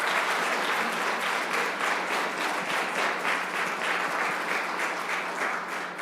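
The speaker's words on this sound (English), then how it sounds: "Let's give her a big round of applause." An audience at a village council meeting in Village Hall breaks into dense, even applause that holds steady at close range for several seconds, with no talk over it.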